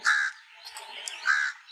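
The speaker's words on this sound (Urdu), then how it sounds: "تو یہ کوے کی آواز تھی." A crow gives two harsh caws, one at the start and one near the end, fairly close and clear, with quiet background noise between them during a children's sound-guessing game.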